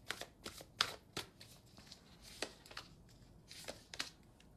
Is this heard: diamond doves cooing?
no